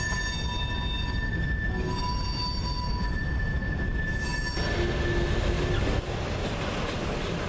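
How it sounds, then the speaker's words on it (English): A Kansas City Southern freight train rolls steadily past a rail junction, its wagons rumbling and wheels squealing in long sustained tones, loud and continuous, with no pause through the clip. "The rear of the Kansas City Southern train clears the junction"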